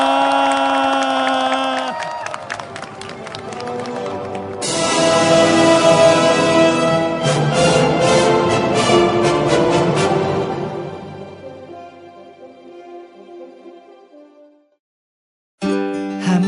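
A large crowd cheers and applauds loudly at a Gwanghwamun Square rally alongside Sewol ferry victims' families, the roar building and swelling for several seconds before fading away, with a brief new burst of sound at the very end.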